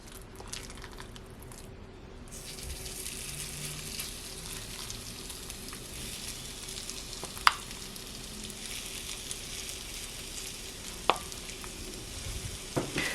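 Stove Top stuffing donut batter with egg stirred in a bowl, a steady soft wet squishing and scraping over a faint hum, with a couple of sharp clicks and no talking.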